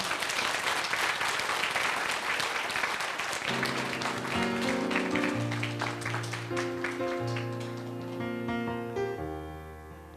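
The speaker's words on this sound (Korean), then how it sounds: "박수로 청해 드리면서 모시겠습니다" Warm crowd applause at a church praise concert in Busan greets a guest, loud at first, then continuing more softly as sustained instrumental music enters and plays beneath it.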